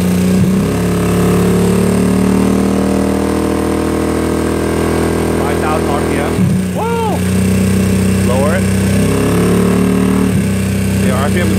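A GY6 scooter engine idles steadily up close after the ignition is switched on, a loud continuous buzzing hum with slight shifts in pitch, while someone talks over it.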